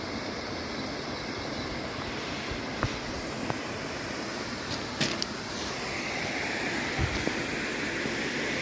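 Heavy water pours over the spillway of the Kali Abab dam at Garum, a dense, unbroken roaring rush at high flow early in the rainy season, loud and close with a few faint clicks and bumps on top.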